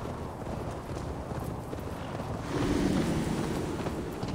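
Horse hooves clatter in a steady, rapid clip-clop rhythm during riding in Assassin's Creed Valhalla, close and continuous under a low wind-like rush that grows slightly louder toward the end.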